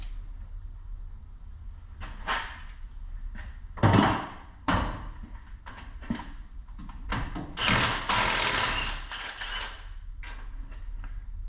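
Tight front hub bolts on a 2015 Dodge Ram 1500 with a 5.7 engine being loosened with a ratchet, with clicking ratchet strokes, sharp metallic clanks and knocks over a low background hum.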